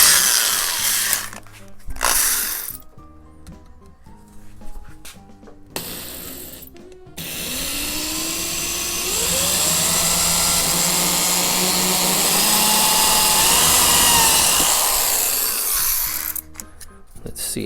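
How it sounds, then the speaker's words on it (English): A power drill whines steadily for several seconds drilling into wood on model airplane landing gear, its pitch rising and dipping as it bites, preceded by short clicking ratchet bursts. "So we're gonna drill here and here,"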